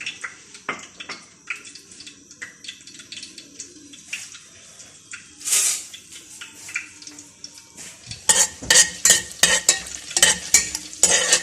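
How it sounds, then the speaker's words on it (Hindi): Chopped ginger and garlic hit hot oil for a chicken Manchurian, giving a close sizzle with scattered stirring clatter that grows busier and louder in the final seconds. "इसमें मैं डालूंगी अदरक और लहसुन चॉप किया हुआ।"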